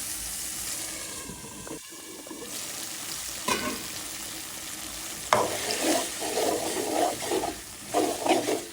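Tomato sautéing in a pan with fish roe and spices: a moderate sizzle broken by spatula scrapes and stirring knocks, growing busier and louder toward the end, without voices.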